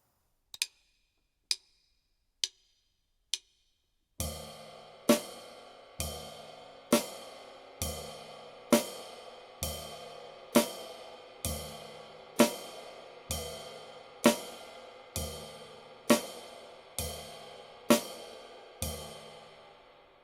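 Jazz comping exercise on a drum kit with the hi-hat foot rocking heel and toe: four soft, isolated clicks count in, then a steady, even pulse of crisp strokes repeats to the end.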